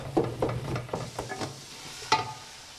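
Chicken keema frying in a pan for a dhaba-style dish, a spoon stirring and pressing with several clear scrapes and taps over a soft sizzle, close by with no speech.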